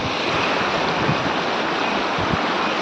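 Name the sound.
flowing water at a temple stream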